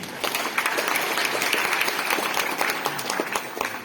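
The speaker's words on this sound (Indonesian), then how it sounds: "Kita beri tepuk tangan" A university audience at an Islamic education lecture applauds the dean in a steady, dense wash of clapping that holds at even loudness throughout, with no clear speech.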